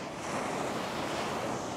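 Ocean waves washing onto a beach at Bimini, a steady broadband surf rush with wind noise buffeting the microphone, continuous and fairly close.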